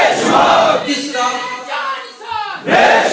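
A large rally crowd chanting slogans in unison, loud, close voices rising and falling in rhythmic calls across several phrases.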